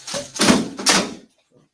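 A house door opened to let someone in from outside, giving two loud close knocks or thumps of handling a few tenths of a second apart, followed by silence.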